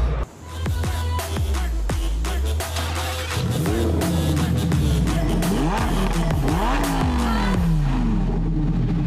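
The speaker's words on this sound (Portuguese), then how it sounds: "filmar os carros lá fora, saindo" Cars pulling out and accelerating hard outdoors, engines revving up and down in rising sweeps with tire squeal and skids, several vehicles passing close and loud over a steady engine drone.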